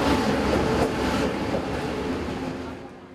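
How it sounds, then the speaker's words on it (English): An early morning passenger train to Hualien, Taiwan, rumbling along with a broad, steady roar and faint rhythmic clatter, fading somewhat toward the end. "Taking an early morning train to Hualien"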